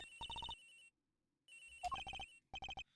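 A cell phone rings in the video game Ace Attorney Investigations: short bursts of a bright, rapid electronic trill separated by brief silences, loud and clear with no voices over it.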